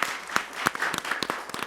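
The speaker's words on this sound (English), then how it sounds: "Audience, y'all can applaud for those folks if you'd like to." Scattered applause from a town hall audience, a few sharp claps standing out over a thin, brief patter of hands, moderately quiet and short.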